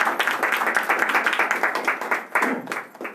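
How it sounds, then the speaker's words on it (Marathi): Church congregation clapping together at a Sunday service, a dense, steady patter of many hands close by, continuing without voices. "आपण टाळ्या वाजवू देवाच्या गौरवासाठी"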